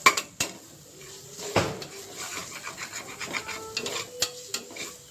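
Mutton biryani masala with salt sautéed in a pot on a low flame, a spoon repeatedly scraping and clinking against the metal, close and fairly quiet with a faint sizzle beneath.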